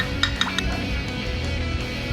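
Spoon clinking and stirring inside a glass while mixing a drink, with a few bright metallic taps near the start and then a softer, steady scraping swirl.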